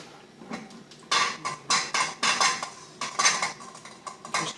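Egg-dipped chicken pieces for chicken francese are set one by one into a pan, producing a series of clattering knocks and bursts of sizzle at a regular pace, close and fairly loud, with no talking.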